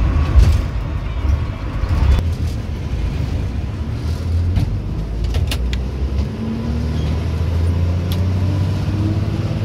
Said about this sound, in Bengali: আমরা এখন ফারাক্কা ব্যারেজ বেরোচ্ছি। মুভমেন্ট খুব স্লো, খুব আস্তে আস্তে গাড়িগুলো যাচ্ছে।